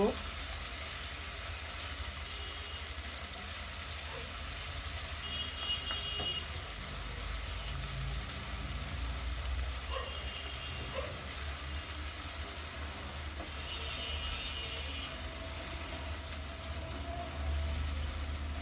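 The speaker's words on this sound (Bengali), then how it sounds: "পেঁয়াজগুলোকে আমি হালকা গোল্ডেন করে ফ্রাই করব" Onions frying in oil for aloo dum give a steady soft sizzle with faint scattered crackles throughout, a little quiet and distant, with no talking.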